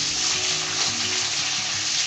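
Vegetables hit a hot pan beside fried onions, setting off a loud, steady, continuous sizzle that holds close up throughout with no voices.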